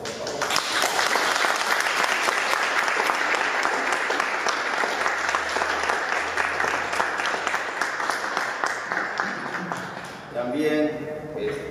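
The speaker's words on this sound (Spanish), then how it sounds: "Otro aplauso, por favor." Loud, dense applause from an audience in Havana rolls on for several seconds, then thins out toward the end as a few voices and other sounds emerge.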